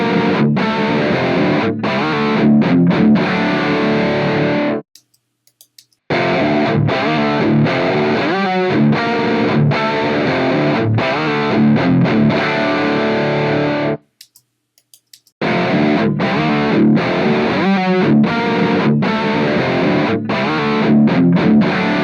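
Distorted electric guitar riffs through a Peavey ReValver 4 amp plugin, loud and continuous, with two short silent breaks between phrases.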